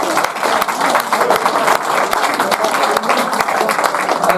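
A crowd at a speedway remembrance event gives a big round of applause, steady loud clapping with sharp individual claps standing out, sustained throughout.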